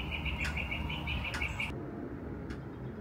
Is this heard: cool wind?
no